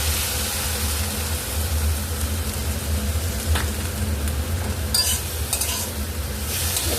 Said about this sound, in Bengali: সর্ষে বাটাটা একটু ভাজা ভাজা হয়ে যাবে